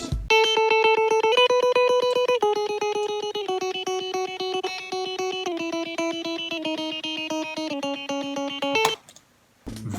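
A clean, dry electric guitar picks a steady melodic line of single notes in an even, repeating rhythm, played up close and alone before stopping abruptly near the end.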